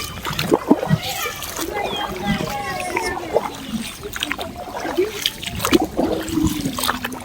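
Floodwater left on a street after heavy rain gets splashed and sloshed in repeated irregular bursts, close by, while a child and other people talk over it.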